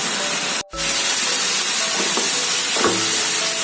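A Bengali egg curry paste of onion, tomato and spices sizzles in hot oil in a pan, giving a continuous close frying hiss with a brief break early on and a few soft clatters.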